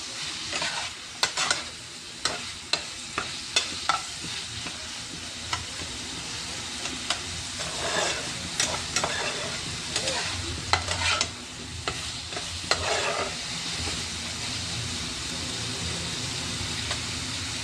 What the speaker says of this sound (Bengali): এরপর আমি এটাকে একটু জাস্ট ভাজা ভাজা করছি।